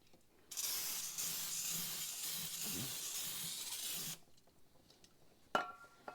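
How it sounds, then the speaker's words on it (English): Aerosol brake cleaner sprayed in a home garage over a catch pan: one loud, steady hissing burst lasting about four seconds, then quiet with a faint clatter afterward. "we're just gonna fire off some brake clean here"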